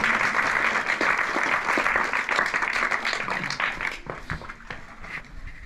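A crowd claps steadily and loudly throughout, a dense wash of applause that thins slightly toward the end.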